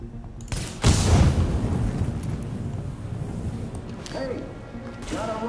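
Traps blowing up after being shot in Tom Clancy's The Division, a heavy booming blast followed by a long rumbling decay, with smaller mechanical rattles and faint clatter later.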